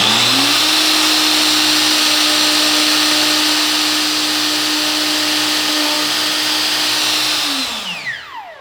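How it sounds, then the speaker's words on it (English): A router fitted with a spiral upcut bit plunges through plywood, giving a loud, steady high whine with a grinding cutting roar that runs unbroken for about seven seconds, then spins down and fades at the end. "So what I'm going to do is plunge cut a hole all the way through here,"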